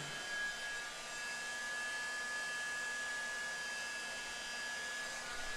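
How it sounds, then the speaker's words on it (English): A hot air gun blows a steady, even rush of air while heating up to strip paint, continuous and fairly close with no other sounds. "Let's heat up the hot air gun."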